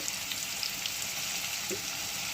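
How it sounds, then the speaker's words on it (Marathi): Onion frying and being stirred constantly in a pan for a fresh cashew curry, a steady close sizzle throughout with small scraping stirs, no talking. "भाजून असा घ्यायचा की जरासा गुलाबी लालसर झाला पाहिजे आणि सतत हलवत राहायचं"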